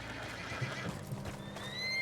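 A horse neighs in Red Dead Redemption 2, a spooked whinny over a low rumbling game backdrop, with a rising high-pitched call near the end; no talking.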